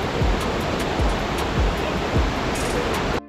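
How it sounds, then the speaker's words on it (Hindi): Dudhsagar waterfall in Goa roars as a loud, continuous rushing wash of water heard up close, steady throughout with a few faint thumps and a brief dropout near the end. "बहुत बड़ा वाटरफॉल है।"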